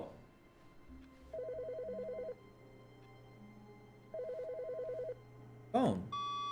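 A telephone rings in The Stanley Parable: Ultra Deluxe, two evenly spaced bursts of rapid electronic trilling separated by a pause, followed by a brief sharp sound at the end, with no talk over it.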